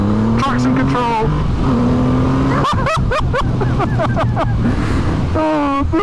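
A Triumph Rocket 3 R motorcycle pulls hard through second gear from 30 to 60, its engine note rising loudly between shifts and wind roar, with a rider's voice talking over it.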